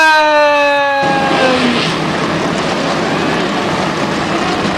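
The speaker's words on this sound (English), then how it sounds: "drivers, start your engines!" Stock-car engines fire up together in a racing video game, a descending electronic chime cutting into a loud, sustained engine roar.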